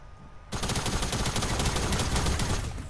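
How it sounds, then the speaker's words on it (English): Dense, continuous automatic gunfire in the video game Fortnite bursts in after a quiet half second and keeps roaring loud and close until the end, with no talk over it. "You're shooting for no reason, Tony."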